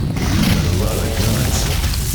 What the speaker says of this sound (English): Okay, so this creates a giant explosion.